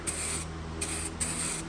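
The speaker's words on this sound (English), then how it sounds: "So you see how I'm spraying?" Aerosol spray can of paint hissing in short bursts, three separate sprays with brief pauses between, close and steady, with no talking.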